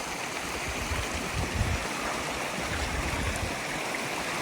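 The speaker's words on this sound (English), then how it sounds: "there goes Reset, fording the river" A hiker fords a river without a bridge on the 100 Mile Wilderness trail, with steady rushing stream water close by and faint splashes underneath.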